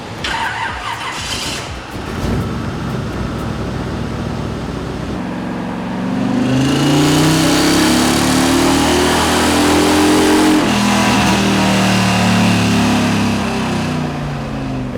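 A 383 V8 with FiTech TPI retro-fit EFI revs hard on a dyno, first idling roughly, then climbing steadily in a loud, sustained pull toward about 5,200 rpm, holding a strained roar until the end.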